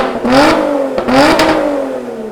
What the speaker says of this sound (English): Sport and race settings also activate the Sport 410's variable pressure exhaust system, sharpening performance and amplifying the engine soundtrack.